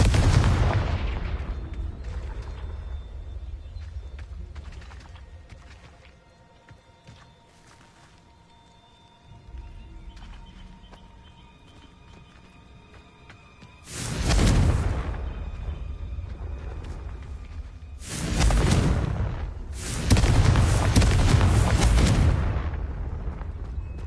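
Confringo spell explosions in Hogwarts Legacy, several heavy booming blasts with roaring rumbling tails, loud and close, separated by quieter stretches of low ambient rumble.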